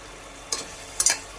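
Mutton bones are stirred in a hot pan, heard as two short scraping bursts of sizzle a half-second apart over a faint background hiss.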